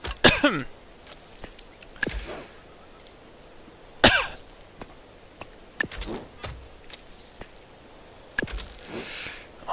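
A person coughs several times, with sharp, separate bursts spaced a few seconds apart over a quiet indoor background.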